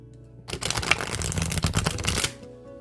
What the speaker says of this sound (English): I'll shuffle the deck and I will pull a card